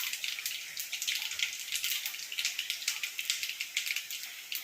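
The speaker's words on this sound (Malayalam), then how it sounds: "ഇപ്പോഴത്തേക്ക് നമുക്ക് കടുകും പൊട്ടിച്ചെടുക്കാം" Mustard seeds pop in hot oil while a Kerala-style chicken theeyal is being made, giving a dense, steady, close crackle of tiny sharp spits that runs throughout, with no talk.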